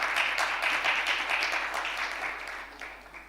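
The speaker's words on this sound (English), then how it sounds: "A round of applause." Applause from an audience at a commemoration panel event, a steady wash of many hands clapping at moderate loudness that gradually thins toward the end.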